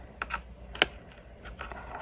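Gerber Dime multitool scissors cut through thick plastic packaging, giving a few sharp snipping clicks and crackles close by, with one louder snap in the middle.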